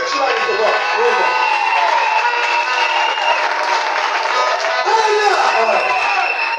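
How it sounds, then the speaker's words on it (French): Church congregation cheering and applauding loudly during a sermon, a dense, sustained roar of clapping and shouting voices that holds steady from start to finish. "Il faut toujours acclamer très fort."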